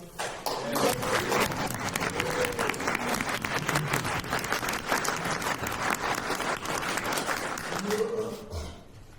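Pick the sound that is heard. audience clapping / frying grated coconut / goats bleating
audience clapping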